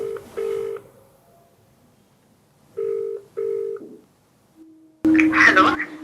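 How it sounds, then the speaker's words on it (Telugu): Telephone dialing for a call: a few short steady tones sound in separate pairs with silence between them, then a voice speaks loudly near the end. "సరే, అయితే మరి బిందుకు కాల్ చేయనండి"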